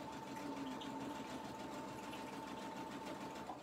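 Sewing machine stitching a pillow case, a steady rapid mechanical whirring and clatter heard close and continuous for a few seconds.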